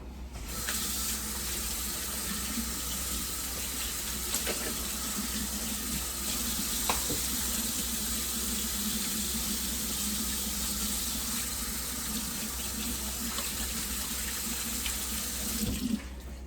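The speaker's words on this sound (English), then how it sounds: "Let me just wash my hands" A kitchen tap runs steadily while hands are washed under the stream, making a continuous close splashing hiss with small shifts as the hands move through the water.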